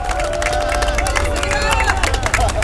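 Crowd at an outdoor Seoul district campaign rally clapping and cheering, a brief busy burst of applause and shouts over amplified sound and crowd babble.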